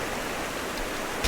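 Water gushes from a knocked-down wall in Rise of the Tomb Raider, a steady broadband rushing like a stream or waterfall, with a brief louder burst near the end.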